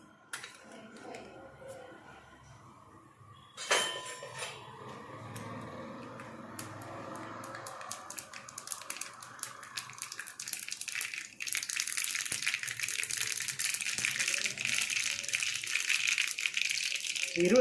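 Mustard seeds sputtering in hot oil for a Gujarati tempering, starting quiet with a sharp clatter as they drop in, then building into a loud, dense crackling and popping.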